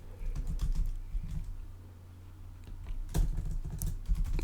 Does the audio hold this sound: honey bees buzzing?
no